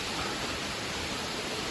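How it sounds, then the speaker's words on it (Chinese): Crystal Waterfall in Bhutan, near the Tiger's Nest monastery, gives a steady, dense rush of falling water that holds an even level throughout, with no voices over it. "这个瀑布的名字叫做水晶的瀑布啊"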